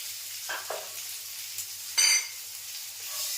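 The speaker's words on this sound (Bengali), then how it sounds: "সব কিছু মিলে ভেজে নিলাম।" Vegetables frying with a little turmeric and sugar in a pan, a low steady sizzle broken by a few stirring scrapes and one louder clatter near the middle, no voices.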